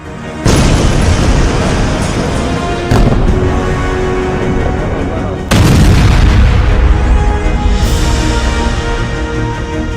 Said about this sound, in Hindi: जबरदस्त धमाके के बाद बारूद और धूल का गुबार 200 फीट तक पहुंच गया